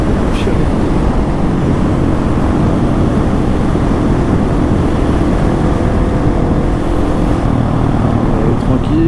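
Husqvarna 701 single-cylinder motorcycle exhaust, a steady loud rumble heard while riding, mixed with constant wind buffeting throughout with no pauses.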